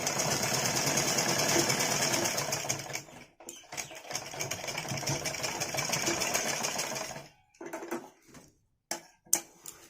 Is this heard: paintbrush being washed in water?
no